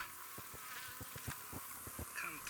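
Honeybees buzzing at a hive during colony work, a steady faint insect drone with small bursts of nearby wing buzz.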